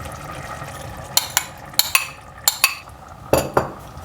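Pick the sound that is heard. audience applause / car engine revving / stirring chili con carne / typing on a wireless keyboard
stirring chili con carne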